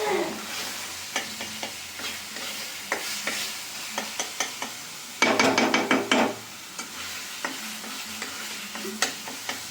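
Home red chilli powder masala for paneer butter masala fries in a pan with a soft continuous sizzle, punctuated by regular spoon scrapes and a louder burst of stirring midway, close up and without talk.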